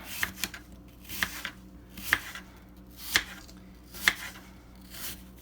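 Knife strokes slicing a freshly baked apple pie into small pieces, five or six sharp, close cuts spaced about a second apart against a quiet kitchen background.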